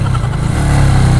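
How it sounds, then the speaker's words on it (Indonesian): A Benelli Black Panther motorcycle engine runs loud and close while being ridden, a steady throbbing drone that rises slightly in pitch. "Selalunya aku menaiki motor ni lah, Black Panther je."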